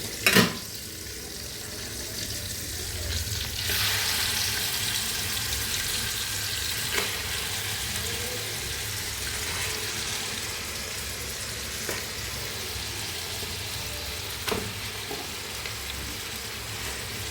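Ingredients sautéing in coconut oil in a pan for a Kerala-style country chicken curry, a steady close sizzle with occasional sharp clicks and stirring scrapes, no talk.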